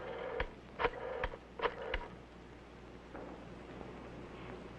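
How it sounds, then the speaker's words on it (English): A 1962 push-button telephone being dialed: a handful of short, distinct tone beeps in an irregular sequence over a faint hiss, followed by quiet line noise. "Flip the switch button, then dial a code number and the number you want."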